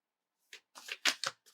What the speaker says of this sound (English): the cards are really stiff, so bear with me as I try and shuffle through this